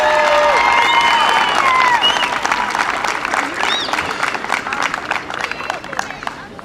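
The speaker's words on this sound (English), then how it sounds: "One more round of applause for Riley." Crowd clapping and cheering outdoors at a Little League baseball opening day after the national anthem, loud at first then tapering, with whoops and scattered shouts mixed into the applause.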